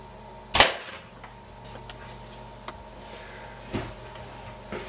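A potato slingshot fired from about three metres, one sharp smack as the shot hits a nylon bag, followed by a smaller impact and faint ticks in a quiet indoor studio.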